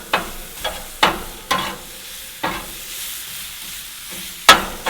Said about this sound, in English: One of the things I like to do with smash burgers is grill the onions some first.